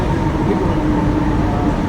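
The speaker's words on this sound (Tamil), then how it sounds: "பாருங்கள், அந்த ட்ரெயின்லாம் வருது தான் அந்த வாசிக்கு போயிட்டு இருக்கு ட்ரெயின்" A Mumbai metro train arriving at a station makes a steady, loud rumble with a faint tonal whine. The sound holds evenly throughout, with possible faint voices in the background.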